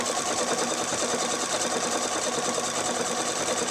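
Pfaff Expression 4.0 sewing machine stitching a hand-quilt style stitch with a J Creative bobbin case, a steady close whirring hum that runs unbroken with no talk.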